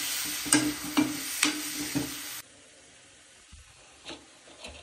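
Tadka for matar paneer frying and being stirred in a pan: steady close sizzling broken by rhythmic scraping strokes, then a sudden drop to a faint simmer with occasional soft stirs.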